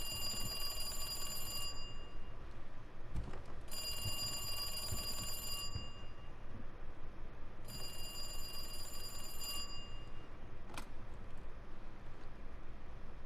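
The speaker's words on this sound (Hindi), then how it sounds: "फोन किसका बजने लगा?" In Resident Evil 2 Remake, a phone rings in repeated bell-like bursts of about two seconds, separated by pauses, over a steady low ambient hum, with no talking.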